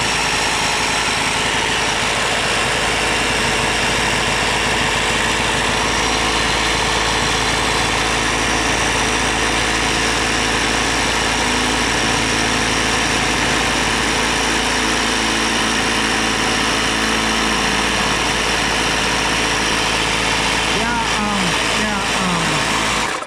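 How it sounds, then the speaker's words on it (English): An Etenwolf Vortex S6 high-flow air compressor runs loud and steady throughout, a constant close motor drone with a few faint voices beneath it near the end. "turn the compressor on. Well, gosh, that's loud."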